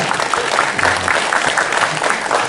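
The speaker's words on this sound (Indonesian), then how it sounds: "Kita beri tepuk tangan kepada dua narasumber kita." Audience at a Bali regional arts and culture event claps for two speakers, brisk, even applause with no pauses across the whole moment.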